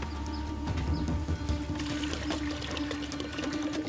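Water pours and splashes continuously from a bamboo pipe during an outdoor survival challenge, a close, busy trickling and spattering that runs steadily throughout.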